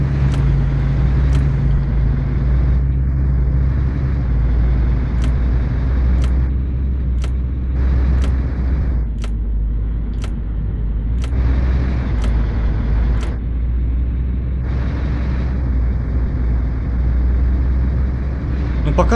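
A steady, loud engine drone from a truck driving in 18 Wheels of Steel: Extreme Trucker, a constant low rumble with periodic short clicks over it, while someone talks.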